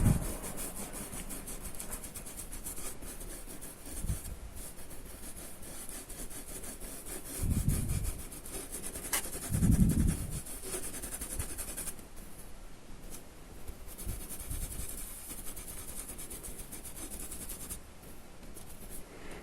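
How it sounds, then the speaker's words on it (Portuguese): A paintbrush rubs and spreads paint across the ridged segments of a pumpkin in soft, scratchy back-and-forth strokes, quiet and close, with a few louder scrubbing bursts and no speech. "eu tenho que espalhar, ó, esfregar bem meu pincel"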